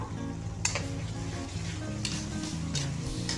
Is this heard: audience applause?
no